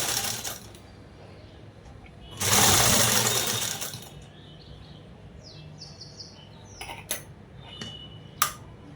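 A sewing machine stitching a dress made from a saree runs in one loud burst of about a second and a half. Quieter mechanical clicks and ticks follow, with a sharp snap near the end.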